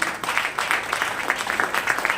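Audience applause at a sales leadership training session in Satna, Madhya Pradesh; a lively, uneven patter of many hands clapping, close and continuous for a couple of seconds with individual claps standing out.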